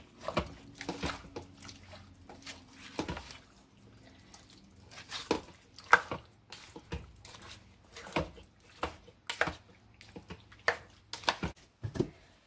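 A spoon stirring crockpot Mexican chili with tomatoes, soft wet squelches and knocks against the pot in an irregular rhythm, close and quiet, with no talk.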